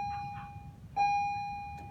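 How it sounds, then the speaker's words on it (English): An electronic school bell marks the seventh hour in a classroom. It gives a steady, clear tone in two pulses, a short one and then a sustained one, over quiet room noise. "that is the seventh hour bell."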